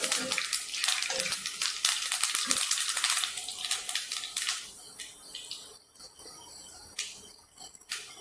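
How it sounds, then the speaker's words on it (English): Fenugreek (methi) seeds sizzle in a few tablespoons of hot coconut oil in a pan for a Malaysian-style fish curry, with a loud, dense crackle for several seconds that settles into quieter, scattered pops. "I am using coconut oil. Add 1 teaspoon and 1 teaspoon of Methi seed into the oil."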